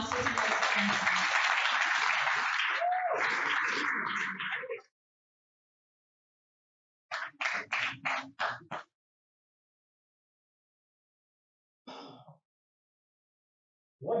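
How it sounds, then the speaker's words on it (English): Applause from a Toastmasters audience welcoming a speaker fills the first five seconds, dense and steady, then breaks off. A few shorter bursts of clapping follow later, separated by silence. "Ladies and gentlemen, with huge round of applause,"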